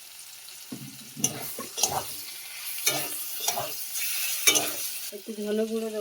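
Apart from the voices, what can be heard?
bitter gourd, potato and tomato frying in a pan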